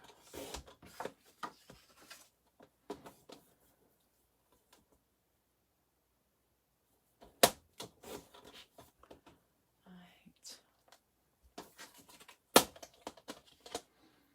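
A paper trimmer slices cardstock for a Valentine scrapbook layout, giving quiet close scraping cuts and handling rustles in short bursts, separated by silent gaps, with occasional soft talk.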